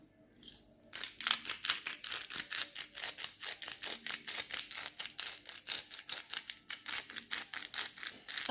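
A pepper grinder cranked over salad, a fast run of dry, crisp clicking grinds that repeats steadily for several seconds, close and alone.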